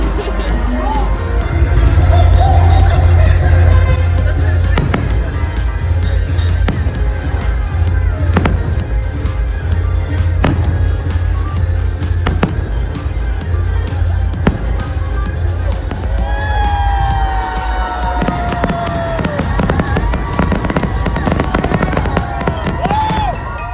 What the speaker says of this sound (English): you'll love this fireworks show